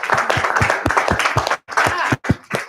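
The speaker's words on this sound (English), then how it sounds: "So let's just give each other a round of applause." A small group at a citizens' initiative review meeting claps together, producing quick, uneven bursts of hand claps at close range that pause briefly before picking up again.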